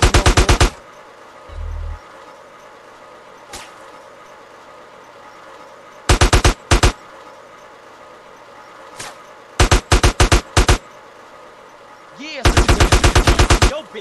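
Automatic gunfire in GTA San Andreas, loud rapid bursts of shots at the start, then scattered single shots and several short volleys, ending in a longer burst, with a brief low tone in between.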